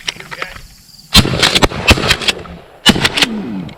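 Shotgun blasts at doves during a hunt over a corn field, two loud, sharp, close reports about two seconds apart, each followed by fainter crackling echoes, with no talking.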